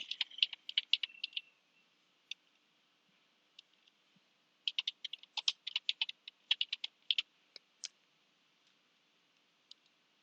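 A computer keyboard clicks in quick bursts as a journal name is typed, with short pauses between clusters of keystrokes; the tapping is close, fairly quiet and heard alone.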